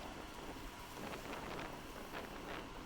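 Steady wind gusting across the microphone outdoors while a DJI Avata FPV drone comes in to land on a windy day, a continuous broadband rush with no pauses.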